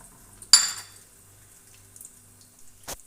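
Popcorn kernels being stirred in hot oil in a pot: one sharp metallic scrape and sizzle, followed by faint scattered clinks and a brief rattle near the end, otherwise quiet.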